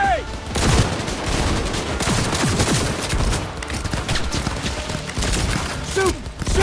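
Rapid bursts of gunfire in the video game Cyberpunk 2077 crackle almost continuously through a busy firefight, with loud shots layered over in-game voices shouting and combat noise.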